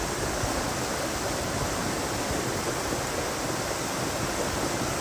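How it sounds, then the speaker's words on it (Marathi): Steady, loud rushing of floodwater pouring over a fully submerged weir in Konkan, a constant broadband roar without pause or voices. "पाणी पूर्ण बंधारा डुबला आहे"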